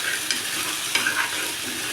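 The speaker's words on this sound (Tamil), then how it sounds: "கொஞ்சம் நேரம் நல்லா கொதிக்கட்டும்." Chili chutney bubbling and simmering in a pan, a steady hissing, sizzling wash with faint stirring scrapes, close and continuous.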